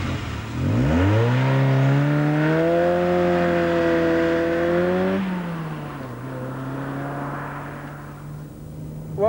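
Turbocharged Cosworth engine in a Ford Sierra RS Cosworth with a Borg-Warner 5-speed gearbox, revving up hard with a rising whine, easing off, then holding a steady drone.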